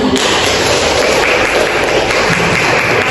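Classmates in a small-group discussion class applaud a student named Fabi, with a burst of dense, continuous clapping starting almost at once and holding steady at close range.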